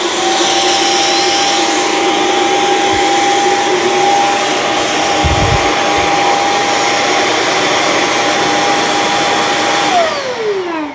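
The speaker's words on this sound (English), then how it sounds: "So now when I dock it, it's going to auto empty and charge it." A Shark Clean & Empty BU3521 cordless vacuum docks and auto-empties, a steady loud whirring motor roar with a sustained whine that holds for about ten seconds, then drops in pitch as it winds down at the end.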